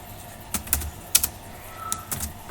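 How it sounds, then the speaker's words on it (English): Keys on a computer keyboard are tapped a handful of times, quiet scattered clicks close by with short pauses between them. "Now I will type here one text."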